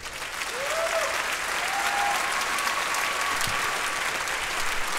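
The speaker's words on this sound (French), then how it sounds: "donc on peut l'applaudir." An audience at a circus artists' festival bursts into applause, dense, even clapping that swells quickly and holds steady, with a faint voice or tone briefly audible through it.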